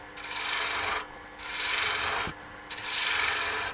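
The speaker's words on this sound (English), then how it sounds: "we can actually do that with the roughing gouge" A roughing gouge shapes spinning wood on a lathe while turning a darning mushroom, three close, raspy scraping passes of about a second each, separated by short pauses, with no voices.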